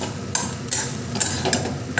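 A spatula scrapes and stirs ginger frying in a pan at a steady pace, several distinct strokes over a soft background hiss of cooking.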